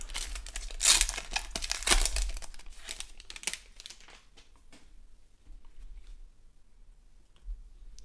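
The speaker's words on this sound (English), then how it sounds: "If I can get the pack open." An Upper Deck Trilogy hockey card pack tears and crinkles open up close, with loud crackling foil bursts in the first few seconds fading to quieter rustles and a faint tap near the end.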